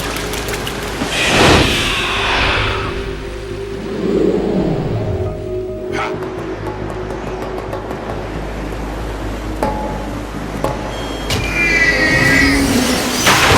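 Heavy rushing water and surging spray from a vehicle skimming across the water's surface in Metal Gear Solid 2, a loud, continuous churning roar with swells and splashes that carry on throughout.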